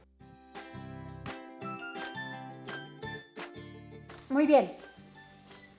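Chorizo frying in oil in a pan gives a steady sizzle that runs beneath a voice speaking and a busy tonal background.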